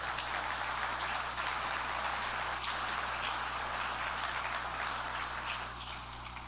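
An audience at a business breakfast forecast event applauds, a steady crackle of many clapping hands that holds evenly for several seconds and then begins to thin out, heard at a moderate distance.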